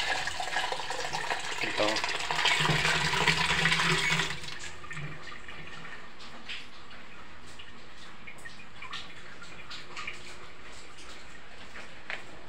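Tap water runs for a pet dog named Dexter. A loud gush splashes for about four seconds, then settles into a quieter steady trickle, and a voice speaks briefly over it.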